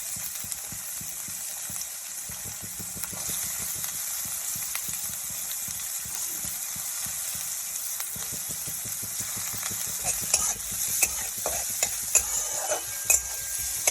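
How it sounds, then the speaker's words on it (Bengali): Onion, capsicum, beans and cauliflower frying for egg bhurji, with a steady close sizzle and repeated scraping, clattering stirs in the pan throughout, growing a little busier toward the end. "বাকি পেঁয়াজ, ক্যাপসিকাম, বিনস, ফুলকপি সবই দিয়ে দেবো।"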